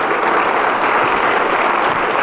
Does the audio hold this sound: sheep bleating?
no